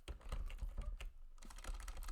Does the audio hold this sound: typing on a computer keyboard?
yes